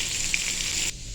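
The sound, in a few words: chicken sizzling while frying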